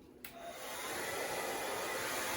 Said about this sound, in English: I have my blow dryer here.